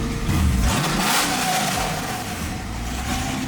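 A supercharged 1965 Ford Mustang revs hard while driving, a loud roaring surge that builds and settles into a sustained rasping drone with supercharger whine, heard close from inside the car.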